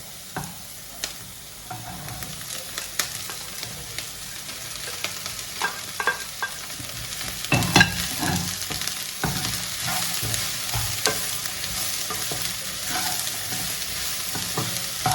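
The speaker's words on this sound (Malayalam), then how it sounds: "ഉപ്പിട്ടിട്ട് ഒന്ന് വഴറ്റിയ ശേഷം നമുക്ക് ഈ വെണ്ടയ്ക്ക അതിലേക്ക് ഇടാം" Okra being stirred and fried in a pan, with a steady sizzle and repeated scraping knocks from the stirring, close and fairly loud with no talking.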